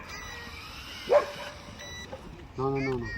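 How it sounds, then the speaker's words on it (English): Dogs at a nearby dog park give a few short, yappy barks: one sharp yip and later a longer whining bark. They sound moderately distant, and someone speaks briefly in between. "If you hear any dog barking, that's because we're right beside a dog park"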